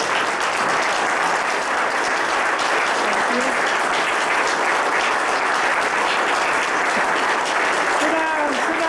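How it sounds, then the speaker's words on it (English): Loud, continuous applause from a standing audience during evening remarks honoring a 70th birthday, sustained throughout, with faint voices rising near the end. "I would appreciate it if you would all just give a round of applause and stand for"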